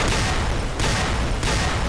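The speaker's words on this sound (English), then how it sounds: "I'm pretty sure all 3 of them just threw dynamite at me." Dynamite explosions thrown by Powder Gangers in the Fallout video game: loud, close, roaring blasts that overlap into continuous rumbling noise, with fresh bursts hitting about every half second to second.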